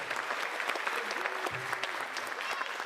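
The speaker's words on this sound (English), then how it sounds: "Another round of applause for Anita Ganino." Crowd applause at a school district retiree reception, dense steady clapping from a room of people with a few faint voices mixed underneath.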